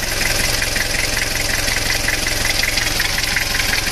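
Toyota Kijang diesel engine with a blow-by fault, white exhaust smoke and burning oil, idling with a steady, loud knocking rumble close by, no talk.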